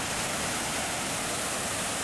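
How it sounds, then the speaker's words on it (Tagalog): Storseter Waterfall in Geiranger, Norway, pours as a steady broadband rush of falling water, constant and fairly loud, with no distinct events or voices over it. "Redor Setter Waterfall in Norway."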